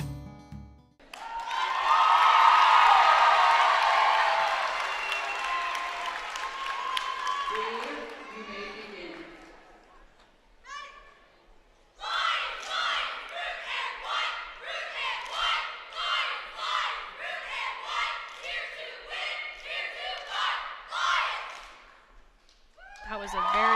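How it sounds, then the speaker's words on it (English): A loud crowd roar swells and fades at a boys' high school basketball semifinal, followed by rhythmic chanting and cheering in pulses, with a commentator speaking between bursts. "That was a very sharp and loud cheer."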